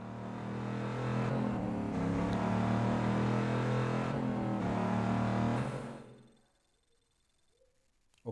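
A Bugatti Divo engine in the Need for Speed No Limits racing game roars loudly and steadily for several seconds, then fades quickly to near silence.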